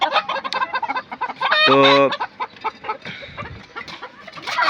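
Chickens on a poultry farm clucking and squawking close by, a busy, irregular chorus of short calls with one longer drawn-out crow-like call in the middle.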